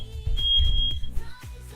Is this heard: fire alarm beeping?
yes